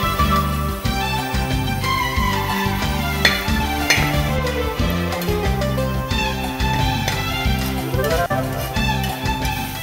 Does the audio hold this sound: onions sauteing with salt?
yes